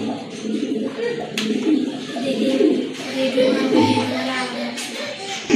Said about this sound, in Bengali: আরেক জোড়া কবুতর দেখতে পাচ্ছেন, বাগদাদি হুমা কবুতর